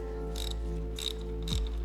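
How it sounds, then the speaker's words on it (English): A ratchet wrench breaks a roughly 3/8 bolt loose, giving three short bursts of rapid close clicking separated by brief pauses over a low steady hum. "we're just gonna break her loose here."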